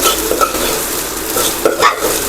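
Okra sautéed in oil is stirred vigorously close by, with a loud, busy sizzle and quick spatula scrapes against the pan throughout the short stretch.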